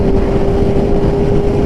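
Wind noise roars from a Kawasaki ZX14R motorcycle ridden fast, with a steady engine drone underneath, loud and constant throughout without any talk.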